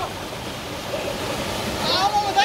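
Okhreni waterfall at Sundarijal pours in a steady, rushing wash of water, with voices rising over the roar toward the end.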